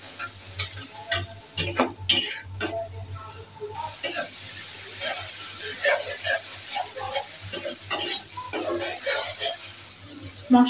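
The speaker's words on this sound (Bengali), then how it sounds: "এখন একটু ভালোভাবে কষিয়ে নেব।" A spice paste of turmeric, chilli powder, salt and a little water sizzles as it is stir-fried for egg curry, with frequent spoon scrapes and clatter against the pan, close up and without voices.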